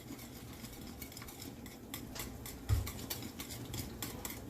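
Pumpkin muffin batter being stirred in a mixing bowl, with a quiet, steady run of soft scraping and clinking strokes from the utensil against the bowl, close by and without talk.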